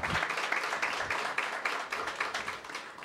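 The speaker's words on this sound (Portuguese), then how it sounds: "eu queria uma salva de palmas presidente da Câmara, o Carmônio Bastos" Applause at a city council session, a soft, moderately dense patter of clapping from a small room of people, fairly distant and uneven.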